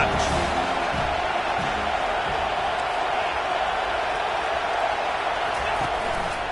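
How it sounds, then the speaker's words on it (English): A college football stadium crowd roars in a continuous, loud, distant wash of cheering during a Notre Dame game, steady throughout and slightly swelling, with commentary voices underneath. "this crowd is turning it up a notch"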